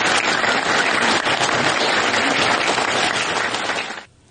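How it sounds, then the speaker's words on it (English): A crowd applauding at a local community event honouring high school students, dense sustained clapping for about four seconds before cutting off abruptly. "Let's have a round of applause for them."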